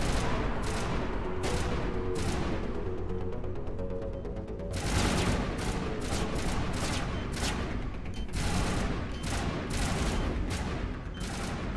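Squad weapons fire in the video game Mass Effect as sustained, dense volleys. The bursts come in a busy rhythm, with a heavier boom about midway through.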